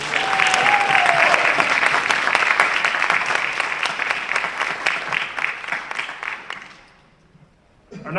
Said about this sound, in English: Another round of applause for Diane.